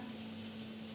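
Food frying in a kawali pan, a steady close-up hiss of sizzling oil with a faint constant hum underneath and no voices, brief and quiet.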